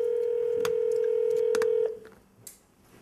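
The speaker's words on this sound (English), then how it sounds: "I guess we wait for when the ringing stops." Telephone ringback: one steady loud tone holding for nearly two seconds with a few faint clicks mixed in, then cutting off into quiet room noise.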